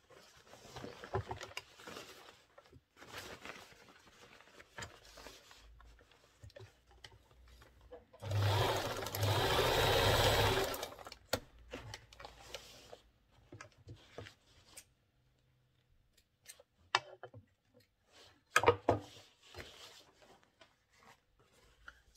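A sewing machine top-stitches a pants side pocket in one steady, close run of about three seconds, set among quieter handling rustles and light taps of fabric before and after.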